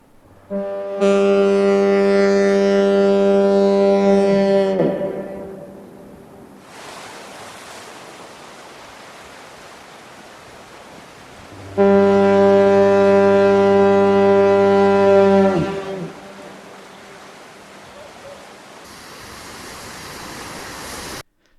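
Portland Bill lighthouse fog signal sounding two long, loud, steady diaphone blasts, each ending in a low falling grunt, separated by a stretch of quieter wind and surf.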